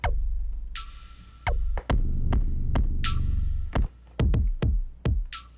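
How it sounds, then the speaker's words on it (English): Roland TR-8S drum machine playing a beat with a swapped kick drum: deep booming kicks repeat under a steady low throb, with sharp snappy hits and short bright sustained tones recurring in a loose pattern, loud and close. "Different kick."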